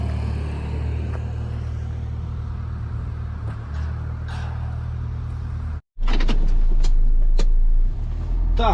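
A car heading out to a winter wheat field in the morning, with a steady engine rumble inside the cabin, a brief cut, then a louder low drone with a few clicks and knocks.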